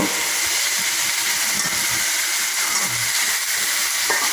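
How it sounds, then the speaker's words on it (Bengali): Chicken pieces frying in hot oil with slightly burnt onions, a loud, dense, continuous sizzle and hiss up close, with faint stirring underneath and no talk. "পেঁয়াজগুলো একটু পুড়ে গেছে তো আমি নাড়তেছি তো মাংসটা একদম ভেজে নেব"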